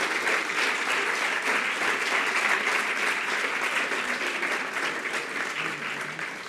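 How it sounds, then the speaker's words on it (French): Sustained applause from an audience at an eloquence competition, honouring the seven jury members; a dense, even wash of many hands clapping that holds steady and eases slightly toward the end, with no talking over it. "Je vais aussi vous demander d'applaudir bien évidemment les 7 jurés de ce soir"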